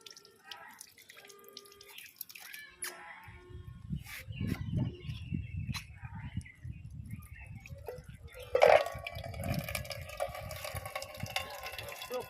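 Water rinses freshly cut young jackfruit, starting quietly and then splashing and dripping in irregular bursts at close range, with scattered small clinks and a brief louder splash near the end.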